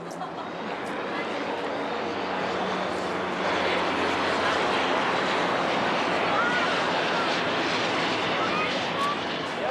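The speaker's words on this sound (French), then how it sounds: "On voit les hélicoptères, on voit les avions" A steady, loud drone of airplanes and helicopters in the Paris July 14 air parade fills the scene, propeller and rotor noise blending into a continuous roar passing overhead.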